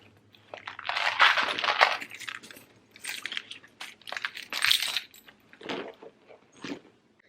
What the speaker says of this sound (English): I'm just going to go ahead and take everything out of this purse